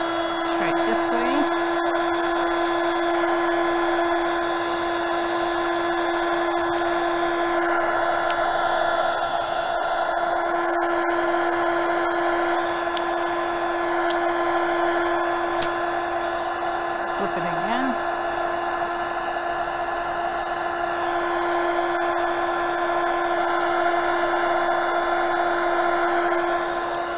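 A heat gun blowing on Shrinky Dinks plastic, a steady high-pitched whirring hum with a constant airflow hiss, close and continuous, with one sharp click partway through.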